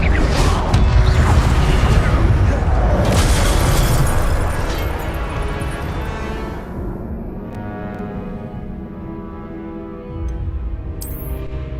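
A fire spell cast in Hogwarts Legacy bursts in a loud whooshing blast that roars for several seconds, then fades into a lower crackling rumble with game music and ambience beneath.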